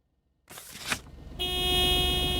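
In the Lake video game, a car horn blares in one sustained honk after a short rush of engine and road noise, sounding close and loud.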